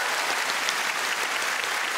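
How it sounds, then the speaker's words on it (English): Steady applause from an audience cheering a happy couple, dense and continuous clapping filling the room at moderate distance for about two seconds with no voices over it. "Round of applause for the happy couple."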